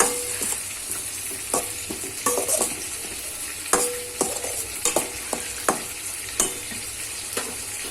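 Sauces stirred in a hot pan for schezwan fried rice: soy sauce, vinegar and tomato sauce sizzling steadily with repeated sharp scrapes and clinks of a spatula against the pan, close and fairly loud, with no talk.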